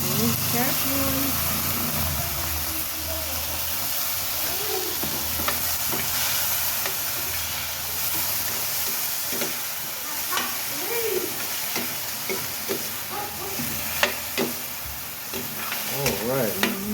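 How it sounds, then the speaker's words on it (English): A spoon stirs milkfish sarciado with chopped tomatoes in a sizzling frying pan, steady scraping and bubbling frying running throughout, with people talking intermittently over it. "Now I'm gonna mix this."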